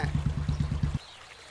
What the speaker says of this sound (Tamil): டேய் தண்ணி நிக்கிறதுக்குள்ள குளிடா.